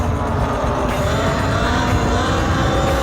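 A Talaria Sting R electric dirt bike being ridden, giving a steady, loud rush of motor whine and rolling noise that holds constant throughout without pauses.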